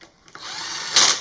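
A power drill briefly runs down bolts during a Yamaha Banshee rebuild, a steady whir that rises to a louder burst near the end of a short, close burst of tool noise.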